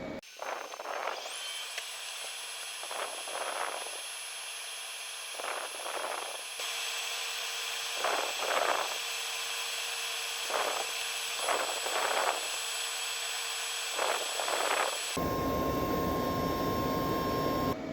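A laser cutter works through an alignment grid in a garage while a smoke extractor roars steadily, with repeated short bursts of higher whirring from the cutter's motion riding over the constant fan noise.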